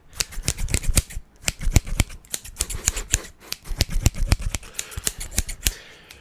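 Rapid, crisp metallic snips repeating in an irregular rhythm, close up, with no talking.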